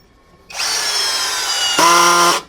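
An APR AP34+ cordless impact drill in torque mode 9 starts with a loud whirring motor, then shifts into a harsher, buzzing ratchet as the clutch slips, close up and with no talk.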